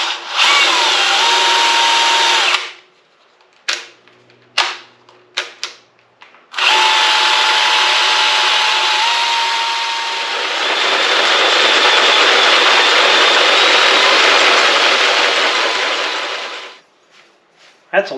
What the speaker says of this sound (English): And we're going to start drilling.